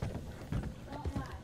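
Hooves of a horse in the Western video game Red Dead Redemption 2 clop in an uneven rhythm, faint and low beneath talk.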